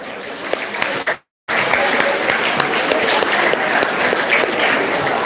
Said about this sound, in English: Can we have a huge round of applause for all the winners